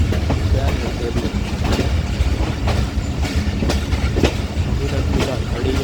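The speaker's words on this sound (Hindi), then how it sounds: "तो लाहौर पहुँच गई है हमारी ट्रेन 13 अवाम एक्सप्रेस" The 13up Awam Express, hauled by Tiger locomotive ZCUP 30, rumbles loudly into Lahore with continuous wheel roar and rhythmic clickety-clack of the carriages, a few sharper knocks standing out along the way.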